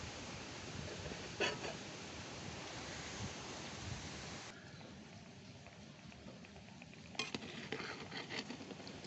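Egg curry being stirred gently in a new clay pot, a soft continuous scraping and churning texture that runs steadily throughout, close and alone with no talk.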